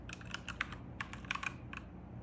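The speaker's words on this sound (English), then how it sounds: "let's quickly type a sentence" Quiet, steady clicking of keys as someone types a sentence on a computer keyboard, a quick run of taps with a brief pause in the middle, no voices.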